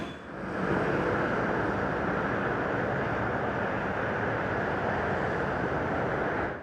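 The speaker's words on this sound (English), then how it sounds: "so again I do apologise for the road traffic noise." Road traffic on the M4 motorway makes a dense, continuous broadband roar, steady and fairly loud throughout, with no voices over it.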